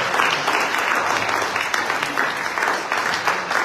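Church congregation applauding during an Italian-language sermon, a steady wash of many hands clapping that fills the whole moment at an even, moderate level.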